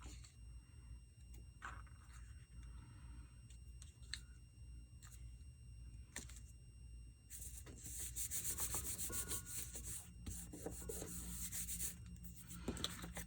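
Soft, steady rubbing of a finger spreading glue on paper, close up and quiet, with a brief brighter scraping patch toward the end; no talking.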